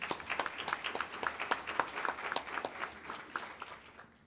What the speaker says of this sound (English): Please let them have a hand of applause.